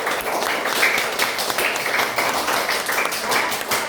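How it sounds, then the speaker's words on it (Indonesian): A group of schoolchildren clapping their hands together in a classroom, dense continuous clapping that stays loud and close for several seconds. "Ayo kita tepuk tangan dulu untuk kita semua sekalian."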